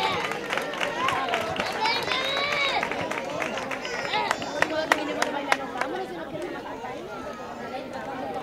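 Applause from families at a children's end-of-year school graduation ceremony in Almonte, steady clapping mixed with crowd chatter and children's voices, with a few sharper claps standing out near the end.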